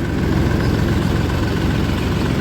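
An old tractor engine idles near a mill in a steady, close, low rumbling throb that holds an even level throughout, with no voices.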